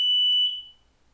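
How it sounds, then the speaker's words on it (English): A single piercing high-pitched chirp from a household smoke alarm, sharp at onset and then ringing out and fading within under a second, heard alone without talk. "Oh, that's my smoke alarm going off."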